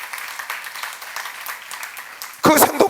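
A church audience breaks into loud clapping during a sermon at a seminar, a brief burst of applause rising sharply at the end after a quieter stretch.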